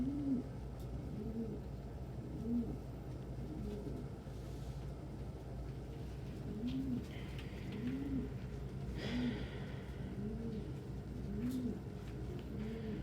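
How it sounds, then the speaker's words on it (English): Pigeons coo in a soft, repeated rhythm, several low rolling calls spaced a second or two apart over steady background hum, fairly close by. "And that's honestly just pigeons being pigeons."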